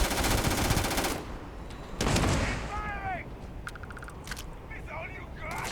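Rapid automatic gunfire in the sci-fi shooter Starfield, a dense burst for about a second followed by a second shorter burst, then quieter game effects and chirps, with a voice talking intermittently.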